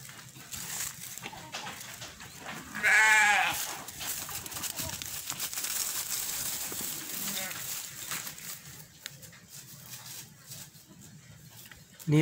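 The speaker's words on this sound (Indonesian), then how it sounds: "Ini domba-domba yang kita miliki, sebagian di kandang, sebagian di sini." Garut sheep bleat in a pen and sunning yard on a livestock farm, a clear quavering call rising briefly amid steady farm background noise and low activity.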